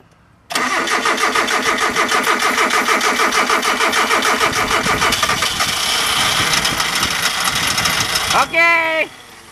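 Hyundai car engine cranks with a fast, steady rhythmic churn for several seconds, then catches and runs rough, loud and close, with a voice briefly heard near the end.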